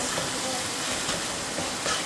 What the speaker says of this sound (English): This needs to be fried up nicely.